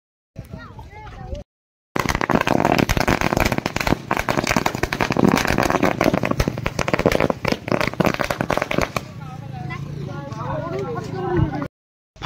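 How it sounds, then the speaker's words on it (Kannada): Firecrackers set off during a Ganesh festival celebration, a dense rapid string of loud crackling bangs running for several seconds, with people talking before and after the burst. "ಈಗ ಒಂದು ಸ್ವಲ್ಪ ಪಟಾಕಿ ಹಚ್ಚವ್ರದ ನೋಡ್ರಿ"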